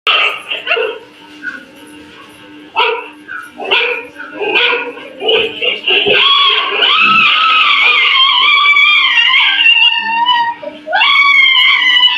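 Stray dogs bark and yelp in an attack on a woman caught on street CCTV, a burst of sharp barks giving way to sustained loud, high-pitched yelping and whimpering close to the camera.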